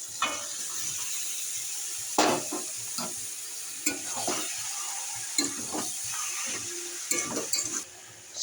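Soybean chunks frying in a pan with a spiced masala, a steady soft sizzle under repeated scraping and stirring strokes, close and fairly quiet.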